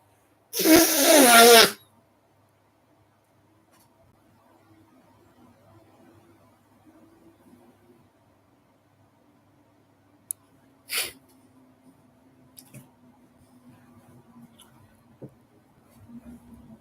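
A single loud sneeze bursts out at the start, followed by quiet room noise with a faint sniff or rustle later on.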